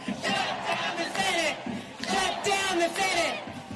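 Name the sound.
protest crowd shouting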